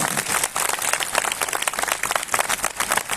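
A congregation at a Christian worship gathering in Umarpata claps loudly and continuously, dense rapid applause filling the hall for several seconds with no talk over it.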